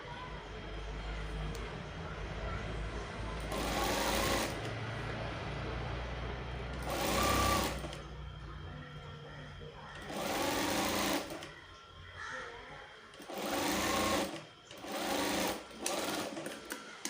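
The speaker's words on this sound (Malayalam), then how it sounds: "ഈ സൈഡും താഴ്വശവും നമുക്കൊന്നിങ്ങനെ മടക്കി തയ്ക്കണം." A sewing machine stitches size 34 bra fabric in several whirring bursts of a few seconds each, stopping and starting between runs, close by with faint room noise in the pauses.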